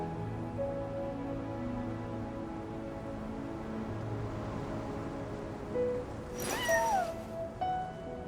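A cat meows once, close and clear, from its perch on a counter, a rising then falling cry over a quiet hum of background tones.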